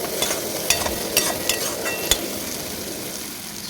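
Spice masala fries in a pan for a potato and pea curry. A soft sizzle runs underneath while a spatula stirs with several sharp scrapes and knocks against the pan, then the sound settles into a quieter frying hiss.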